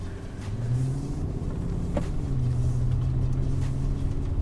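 A V10-powered Audi S8 accelerates from close by, its engine note climbing into a steady, smooth drone that holds strong for several seconds without talk over it.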